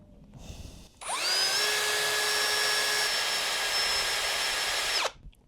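A power drill bores into the metal body of a Sprinter van, running steadily at high speed for about four seconds alone, with a short pitch change partway through, then stopping abruptly.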